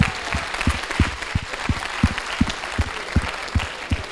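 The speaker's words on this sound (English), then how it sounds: "Guys, give her a clap here." Audience at Sri Balaji University in Pune clapping for a student, a sparse crowd of claps with distinct individual hand strikes over a noisy room for about four seconds.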